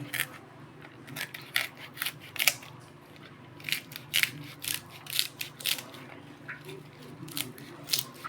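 A banana flower being chopped into small pieces, a steady series of crisp, sharp cuts repeating roughly every half second, close and moderately quiet with no talking.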